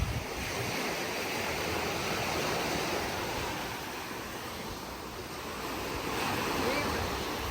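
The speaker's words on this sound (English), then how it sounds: "Look, check out this ocean." Ocean waves wash along an island shore in Okinawa as a continuous, soft roar of surf mixed with wind, swelling and easing gently throughout, with no voices over it.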